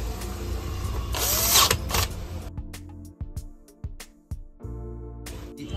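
Switch screws tightened during repair of a Bosch mixer grinder, with close mechanical ratcheting, scraping and irregular clicks against a low background hum, and no speech.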